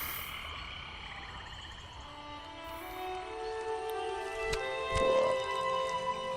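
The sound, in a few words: toad croaking in the video game Moss Book II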